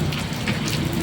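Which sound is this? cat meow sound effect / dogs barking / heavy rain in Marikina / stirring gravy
heavy rain in Marikina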